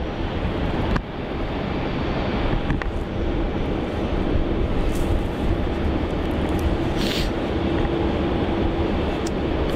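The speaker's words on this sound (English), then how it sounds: "So it's a bit of an earlier takeoff for that Royal Brunei" A Royal Brunei airliner taking off from Melbourne Airport, a continuous heavy engine rumble mixed with wind buffeting the microphone, sustained and loud across the whole span without voices.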